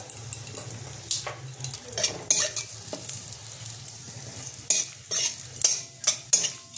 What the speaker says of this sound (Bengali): লঙ্কা 2টো ফাটিয়ে দিলাম। দিয়ে দেবো তেজপাতাটা